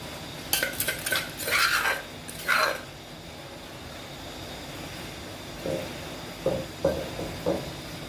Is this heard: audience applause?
no